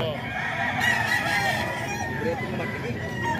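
A Golden Gray gamefowl rooster crows in a drawn-out call at a moderate distance, with clucking and other fowl noise around it.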